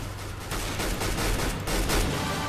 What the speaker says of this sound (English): Negev. Now I don't know how anybody could get really good with this gun.